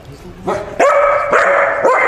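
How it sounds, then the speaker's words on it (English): A dog barks several times in quick bursts while playing with a cat, loud and close, with short yelping tones between barks. "Stop barking."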